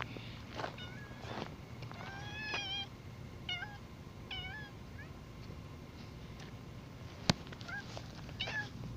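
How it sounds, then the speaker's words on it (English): A cat across a quiet street outdoors at night gives a run of repeated, rising meows, moderately distant, with faint footsteps and a brief sharp tap among the calls. "And there's my cat."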